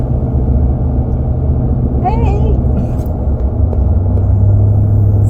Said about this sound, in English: So I'm driving the truck in case we find any treasures.